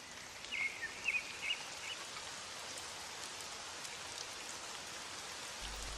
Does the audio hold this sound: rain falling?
yes